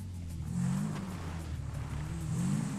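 A stripped-down mini trail dirt bike in GTA V revs steadily, its engine note rising and falling in a moderately loud, continuous drone with no voices over it.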